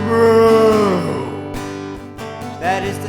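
A voice imitates a cow's moo as a long, loud, falling sung note over a bouncy children's-song backing of bass and percussion, fading into the music after about a second.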